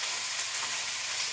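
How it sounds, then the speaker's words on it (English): Bacon sizzles steadily in a pan on the stove for an Elvis sandwich, a loud, continuous crackling hiss close to the mic with no talking. "that bacon's really sizzling"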